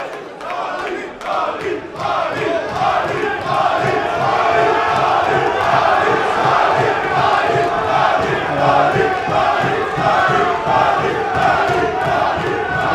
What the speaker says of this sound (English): Ali fans in the crowd looking to raise their adopted man for the evening